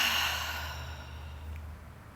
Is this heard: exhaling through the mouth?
yes